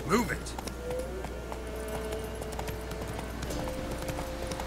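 Horse hooves clip-clopping at a run across the ground in The Witcher 3, a steady rapid beat close by, with a few faint tonal game sounds over it and a brief voice-like sweep at the start.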